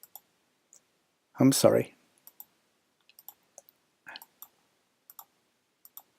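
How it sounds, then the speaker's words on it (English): A computer mouse clicks as files are selected, producing sparse, faint, sharp clicks spread irregularly through the stretch, with a brief spoken word near the start. "now I'm going to click on one, hold my Shift key down"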